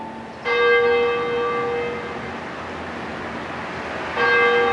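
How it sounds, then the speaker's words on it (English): A church bell tolls in honor of a fourteen-year-old girl, two clear ringing strikes a few seconds apart, each blooming with a rich metallic hum that slowly fades between them. "we are going to let the bell tone"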